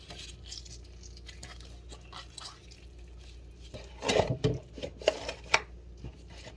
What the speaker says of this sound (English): So I'm gonna rinse it out.